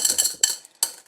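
Glass pebbles rattle and clink inside a glass vase during refilling, three or four bright, close bursts of jangling chinks separated by short pauses.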